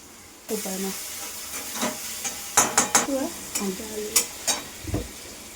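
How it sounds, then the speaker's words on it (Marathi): Onion and tomato fry with salt in a pan while making Maggi noodles: a steady close hiss of sizzling oil broken by repeated scraping stirs, with a faint voice now and then underneath. "थोडंसं मीठ टाकूया त्याच्यामध्ये, म्हणजे कांदा आणि टोमॅटो लवकर शिजून जाईल."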